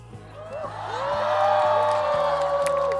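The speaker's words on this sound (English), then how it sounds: "Can we get a round of applause for that?" A large concert crowd cheers and whoops with some applause, swelling in loudness as sustained tones ring over it.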